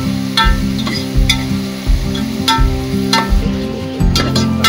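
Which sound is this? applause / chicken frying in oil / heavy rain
chicken frying in oil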